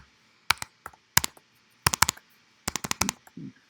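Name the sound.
typing on a Mac computer keyboard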